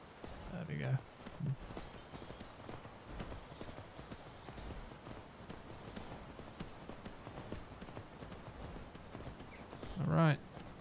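Rhythmic clip-clop of horse hooves moving steadily in The Elder Scrolls V: Skyrim, with a couple of louder snorts or grunts near the start and end.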